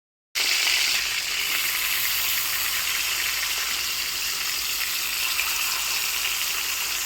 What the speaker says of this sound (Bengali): রুই মাছে লবণ হলুদ মাখিয়ে হালকা করে মাছটাকে একটু ভেজে নেব।